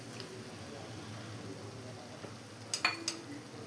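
Chopped tomatoes being sautéed in a pan for mutton biryani, a low background sizzle with a few quick clinks and scrapes of a spoon against the pan near the end.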